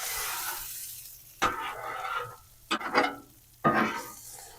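Meat sizzles in a frying pan with pepper, moved to the corner for a Greek pita quesadilla; a steady low hiss is broken by several sharp stirring and scraping bursts of fry noise, with no talk.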